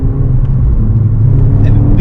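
A modified Ford Fiesta ST180 with a quickshift gearbox accelerates hard, its engine a loud, close, steady low drone from inside the car, with a voice briefly over it.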